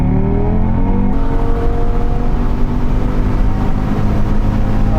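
Audi RS3 tuned by ABT with its limiter removed, engine revving hard and loud, a rising harmonic roar that continues close and unbroken throughout.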